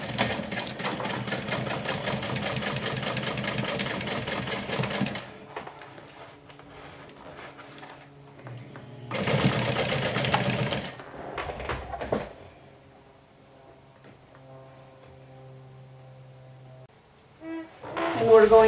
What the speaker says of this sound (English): So I'm gonna go ahead and stitch right on top of the previous stitch line